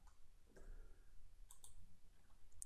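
Computer mouse clicking during CAD software work, several crisp close clicks including a quick double click, faint and isolated against a quiet room.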